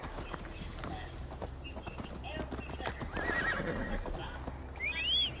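A horse in Assassin's Creed Valhalla galloping with hoofbeats under music and ambience, then a neigh near the end, while a voice speaks over it.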